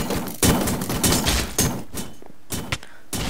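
Gunfire from the GunCraft mod in Minecraft, a rapid string of sharp shots with several louder bursts spread across the moment, close and dense, with no talk over it.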